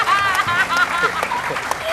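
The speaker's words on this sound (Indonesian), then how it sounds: "Tepuk tangan dong buat sini dong." A television studio audience applauds, with sustained clapping mixed with voices talking and sung or drawn-out vocal tones over the top throughout.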